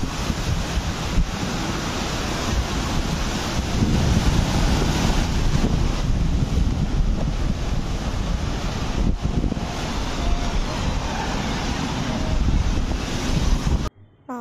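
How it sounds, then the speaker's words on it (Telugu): Strong wind buffets the microphone at Marina beach in Chennai, with sea waves washing beneath it in a continuous rushing roar that stops abruptly near the end. "అలల సౌండ్ కన్నా గాలి సౌండ్ ఎక్కువ ఉంది కదా"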